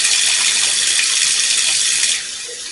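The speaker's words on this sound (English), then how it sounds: "So let me wash my hands." Hands being washed under a running kitchen tap, a loud steady hiss of flowing water that drops off and quiets near the end.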